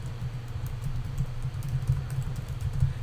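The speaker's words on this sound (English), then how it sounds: "if I type in the domain" A domain name typed on a computer keyboard, a quick run of close, soft key taps in an uneven rhythm, with no voice.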